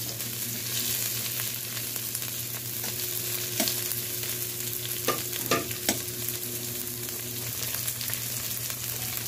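Balbacua ingredients are sautéed in a pan, giving a steady close sizzle with a few brief scrapes and clinks from stirring midway through and no voices.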